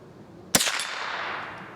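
A single sharp crack from a .22 rifle firing CCI Blazer ammunition at a squirrel outdoors, followed by a short fading echo; no talking.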